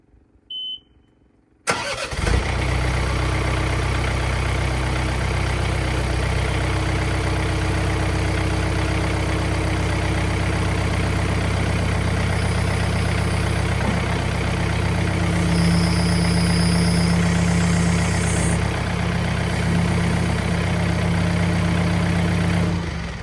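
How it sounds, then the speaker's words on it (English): A John Deere 4044M tractor engine cranks and catches after a brief beep, then idles in a steady close diesel rumble, with a strained hydraulic whine rising partway through as the front loader is raised. "So the first thing I'm going to do is I'm going to lift this loader up and get it out of my way."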